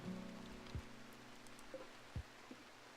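Rain falling in a video game, a steady soft patter with a few louder drops landing near, and no one talking over it.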